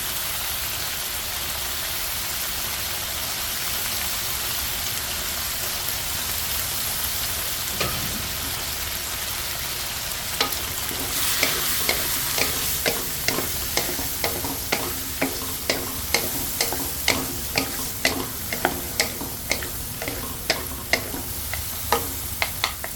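Pork stir-frying in a hot pan with bitter melons and Thai eggplants. A steady sizzle runs throughout, then in the second half a spatula scrapes and clacks against the pan in a quick, regular stirring rhythm.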